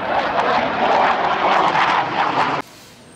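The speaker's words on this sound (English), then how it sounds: "a plane!" A propeller or jet airplane passes overhead outside a Sam's Club store, a steady loud roar of engine noise that cuts off abruptly near the end.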